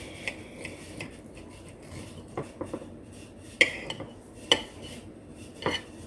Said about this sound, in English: I want to cut right in the middle of it to see if it's